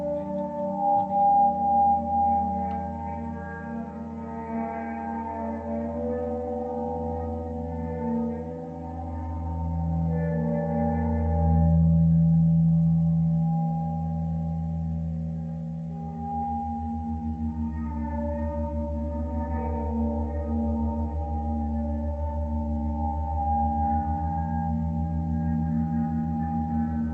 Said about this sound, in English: All of the sounds you're hearing now coming from the two hanging gongs.